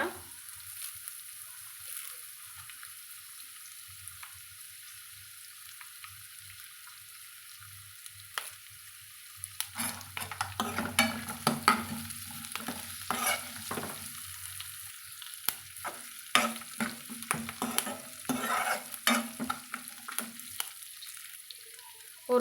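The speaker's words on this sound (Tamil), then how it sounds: "சேர்த்தி நல்லா வதக்கி விட்டுக்கலாங்க" Vegetable peel and curry leaves sauté in a pan, starting as a quiet steady sizzle, then busier with repeated scraping and clattering stirs of a spoon against the pan, close up and without talk.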